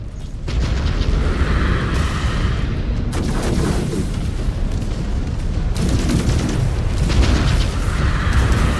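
In Mechwarrior 5: Clans, LRM missile volleys fire and burst in repeated heavy booms and rumbling blasts, loud and dense throughout with no break in the battle noise.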